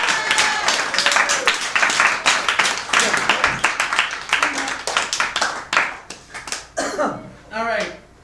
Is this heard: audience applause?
yes